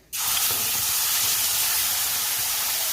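Spice paste poured into hot mustard-style fish-frying oil seasoned with black cumin, hissing in a loud, steady sizzle that starts abruptly and holds constant throughout.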